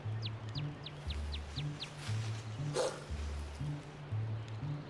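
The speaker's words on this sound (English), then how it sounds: "Woof, woof, woof, woof" Dog barking in the RuneScape video game, a quick run of repeated yips over looping game music that pulses steadily underneath; the barks come in a tight burst early on, with a faint chirp-like accent midway.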